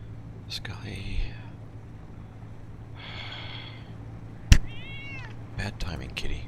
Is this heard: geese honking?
no